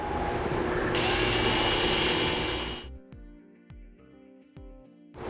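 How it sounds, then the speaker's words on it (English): A power drill bores a pilot hole through the frame rail behind a 2015 Chevrolet's bumper, a loud high whine for about two seconds, then stops, followed by quieter clinks and taps of metal. "here on the side we'll drill out a pilot hole through the center"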